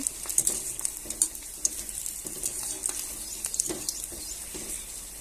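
Okra (bhindi) frying in oil, with a faint, steady crackle and scattered small pops and spatters throughout.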